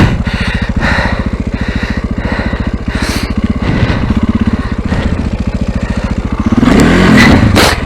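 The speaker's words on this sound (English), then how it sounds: "there we are, bike crawling forward on the clutch" A motorcycle engine runs at a low, steady chugging beat as the bike creeps forward on the clutch. The note thickens briefly near the end with a light rev, and the engine stays loud and close throughout.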